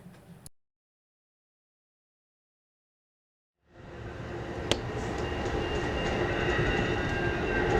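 Amtrak California Zephyr passenger train arriving into Ottumwa, Iowa: after a brief gap of silence, a steady, fairly loud rumble of rolling rail cars builds and holds, with one sharp metallic click partway through.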